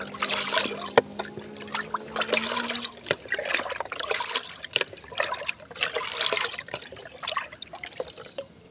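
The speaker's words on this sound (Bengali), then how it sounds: "ভালো করে ঘেটে দেবেন, যেন ভালো করে জলের সঙ্গে মিশে যায়" Water being stirred by hand to mix a plant treatment into it for a lemon tree, giving an uneven run of sloshing, trickling and splashing close by with no talk.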